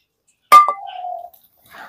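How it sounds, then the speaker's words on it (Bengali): A single sharp clink as a bowl meets a strainer plate while chhena is added onto a thin cotton cloth, followed by a short ringing tone and a faint rustle, close and alone. "এবারে বাটি করে অল্প অল্প করে আমি ছানাটা দিয়ে দিচ্ছি।"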